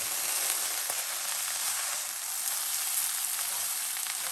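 Chinese sticky rice frying in a pan, a steady, even sizzling hiss that holds constant for a few seconds, quiet and close with no voices.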